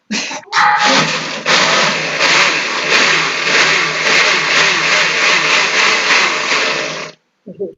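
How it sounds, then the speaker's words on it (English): A blender whirs loud and steady for about six seconds as it churns a thick vegan mixture, its motor straining with a rough, labored tone, then cuts off, with a brief faint sound after. "How thick it has gotten that now my poor blender is struggling."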